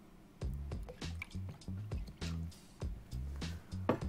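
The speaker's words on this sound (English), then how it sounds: "Just free pouring with those because I don't want to dirty up my jigger for my next cocktail." Cream and full cream milk are free poured into a glass, heard as a series of soft, close squishy glugs and drips in an irregular rhythm, quiet overall.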